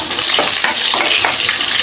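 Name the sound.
onion frying in oil with bay leaves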